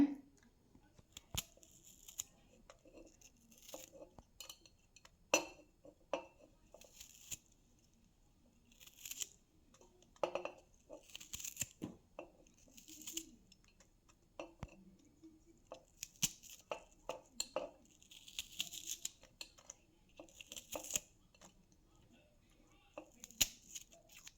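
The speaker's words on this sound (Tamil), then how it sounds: "இந்த வெங்காயத்தோட தோலெல்லாம் வந்து ரிமூவ் பண்ணிவிட்டு நம்ம கட் பண்ணி மிக்சி சாரில் சேர்த்துக்கலாம்" Onion being cut into pieces for a homemade hair oil, irregular crisp knife cuts and peeling crackles, close and fairly quiet, with a voice talking in between.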